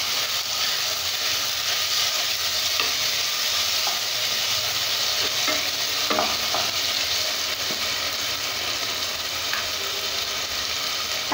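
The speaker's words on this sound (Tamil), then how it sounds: "தக்காளியும் நல்லா வதங்கணும்." Tomatoes sautéing with ginger garlic paste in a pan for mushroom kurma, a constant loud close sizzle with occasional soft clicks of stirring, no speech.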